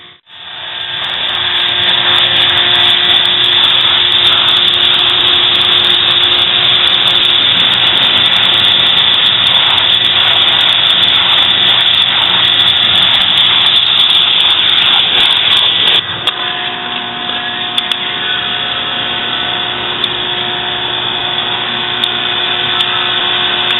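A hot-tank pressure washer cleans car suspension parts during a Porsche suspension swap, keeping up a loud, steady roaring hiss for the whole span that shifts slightly in tone partway through, with no talk over it.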